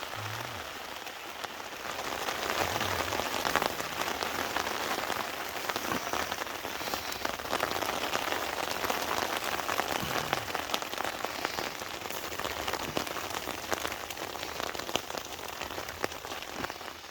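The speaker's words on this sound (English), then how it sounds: "At least we got till 11:30 before rain started." Rain falling on a camping tarp at night during a woodland wild camp, a steady close patter of drops that continues throughout with no voices.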